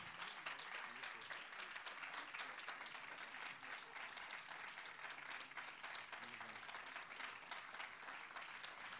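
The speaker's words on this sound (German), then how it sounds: "Das ist dein Applaus." Concert audience applause after an opening set at an open-air summer culture festival in Düsseldorf, a steady, fairly distant crackle of many hands sustained throughout.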